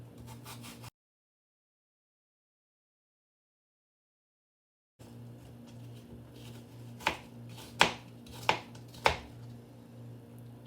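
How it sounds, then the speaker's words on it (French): A knife cuts an apple into cubes on a board, producing four or five sharp, distinct chops near the end after a stretch of silence, with a low steady background hum. "je vais enlever ce qui reste de la pelure et je la découpe en"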